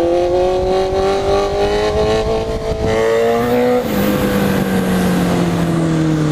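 A Honda CB650F Hornet motorcycle engine revs hard and holds high during a wheelie, its pitch climbing, then stepping up again before gradually dropping, loud and close with no talking.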